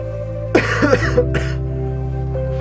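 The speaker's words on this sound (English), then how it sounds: "I'm gonna try not to cough a lot too." A person coughing and clearing their throat in a few short, close bursts over a steady low hum, with no talk.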